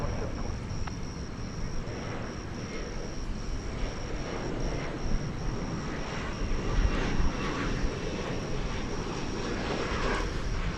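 An airliner departs with a broad, continuous engine roar at moderate distance, rising slightly midway, with a faint voice now and then.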